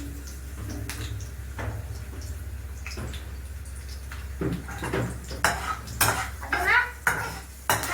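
A pan of food frying in ghee over a medium flame while making jeera rice: a soft background sizzle with sporadic utensil scrapes and clinks that grow louder and more frequent toward the end, plus a brief spoken word.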